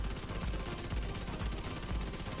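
Rapid automatic fire from an SMG or shotgun in The Division 2, a dense, even stream of close, loud shots that lasts the whole stretch with no pauses.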